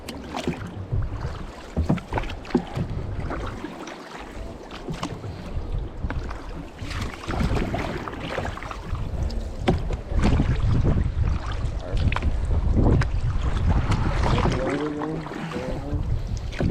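Steady splashing and dipping of kayak paddles in water near Davidson Glacier, close by, with wind buffeting the microphone and no talking.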